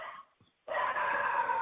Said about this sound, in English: the barking dog barking at me here